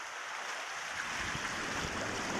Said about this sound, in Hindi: ये सामने जो है गौरी नदी बह रही है